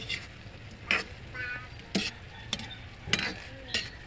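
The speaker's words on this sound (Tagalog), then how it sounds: "Haluin muna natin." Adobo simmering in a pan and being stirred, with several sharp utensil scrapes and clinks against the pan over a faint bubbling sizzle, close and fairly quiet with no talking.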